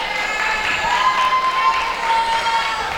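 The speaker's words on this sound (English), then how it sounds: "A very happy team cheering her on." A small team and family cheer and applaud for a women's basketball player receiving an All-American award at a college game, a steady moderate crowd roar with clapping throughout, a whistle-like tone sustained over the noise.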